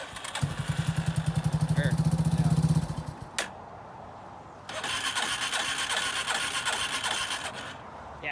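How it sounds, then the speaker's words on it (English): Starter cranking on a 1987 Yamaha Warrior 350 ATV in great condition: a loud rhythmic metallic whirring churn for a few seconds, then a pause and a second longer crank, with a brief spoken word between. "his starter is like way louder than mine. Just a little bit more kind of metallic sound gears"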